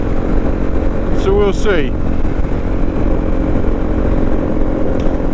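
A Honda CRF250 Rally motorcycle idles nearby with a steady low engine drone, while someone speaks briefly over it.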